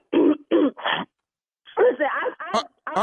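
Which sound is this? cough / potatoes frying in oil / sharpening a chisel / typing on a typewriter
cough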